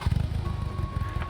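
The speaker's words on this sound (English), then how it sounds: "especially when you turn the key and they hear that awesome exhaust note." A low, rumbling side-by-side engine exhaust note pulses steadily at close range, with a faint whine riding above the throaty burble.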